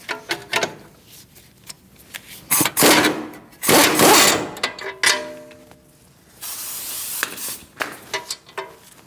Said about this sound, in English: Using a 21mm socket, we're going to take our nut off our tie rod end.